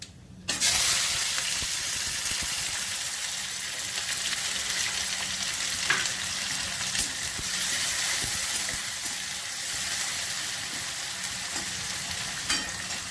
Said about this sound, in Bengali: এবার আমি পেঁয়াজ দিয়ে দিচ্ছি।